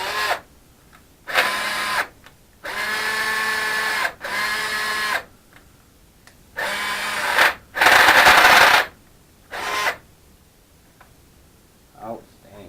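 A DeWalt power tool whirs in about seven short, loud bursts with pauses between them, close by, during fabrication work on a DIY turbo log manifold.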